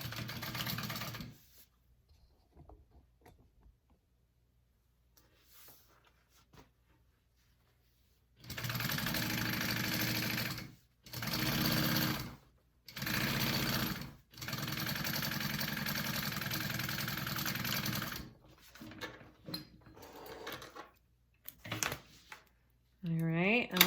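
Sewing machine stitching a quarter-inch seam through backpack lining fabric, running in several loud bursts of steady mechanical whirring separated by short pauses, with faint handling noises between them.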